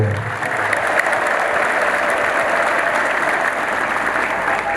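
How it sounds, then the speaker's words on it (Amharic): Church congregation at Nazreth Emmanuel United Church applauding loudly and steadily, a dense, unbroken wash of clapping filling the hall with no pauses. "ካጨበጨባችሁ በደንብ አጨብጭቡ።"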